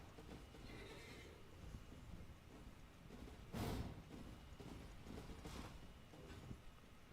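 A horse in the video game Elden Ring lets out a faint, distant neigh, with soft clip-clop and mechanical creaks under game ambience. A short louder burst comes midway.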